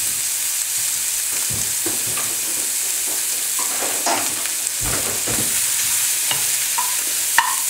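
Bacon sizzles steadily in a hot pan, its fat crackling while a stirring stick scrapes and pushes the pieces around in irregular strokes, close and alone with no talking.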